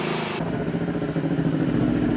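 Red Kawasaki Ninja motorcycle rolling in close by, a steady mid-pitched engine drone that thickens and grows louder after a brief opening, running continuously.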